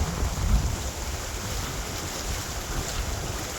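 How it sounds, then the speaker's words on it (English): Strong headwind roars across a boat travelling a waterway, a steady broadband rush of wind buffeting the microphone with water noise beneath, loud and continuous with no voices. "So the wind is really picked up now"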